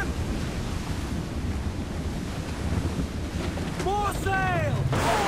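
Rough, stormy seas in Assassin's Creed 4 Black Flag crash and surge around a sailing ship under dark skies, steady loud wave and wind roar throughout, with a brief shouted voice cutting through near the end.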